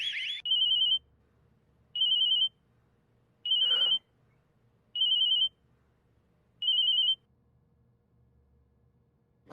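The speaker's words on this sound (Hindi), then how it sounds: "भाभी जी का फोन आ गया यार।" A telephone rings in short, bright electronic bursts, five evenly spaced rings alone in a quiet indoor room, with a brief thud between them.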